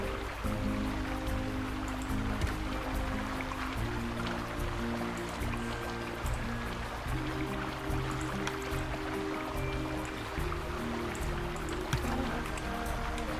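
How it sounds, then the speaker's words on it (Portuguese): A waterfall in Planet Zoo flows as a continuous, moderately loud rushing and trickling wash of water, steady throughout with no speech. "consegui fazer uma cachoeira"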